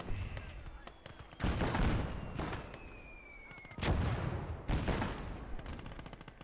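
Gunfire in the video game Call To Arms: Gates Of Hell, several bursts of rattling shots and booming blasts over a background din, loud and close, separated by quieter stretches.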